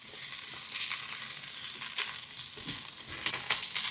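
Rice frying in oil with meat while being stirred: bright, crackling sizzle with scraping and stirring bursts, close and continuous, no voices.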